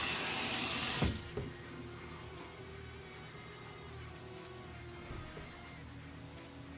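At a bathroom sink a safety razor fitted with Voskhod blades gets a quick dip in water. A brief splash comes first, followed by steady running water from the tap at close range.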